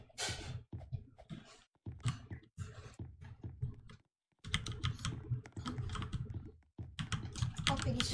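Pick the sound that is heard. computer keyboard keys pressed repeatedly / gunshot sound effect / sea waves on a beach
computer keyboard keys pressed repeatedly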